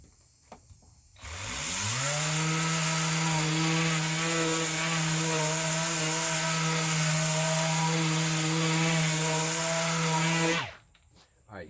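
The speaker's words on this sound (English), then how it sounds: "what I'm going to show you is a piece of 80 grit film on the 5-inch orbital" A 5-inch dual-action orbital sander running 80 grit film on a wood finish spins up, holds a steady, loud buzzing whine for about nine seconds, then cuts off abruptly.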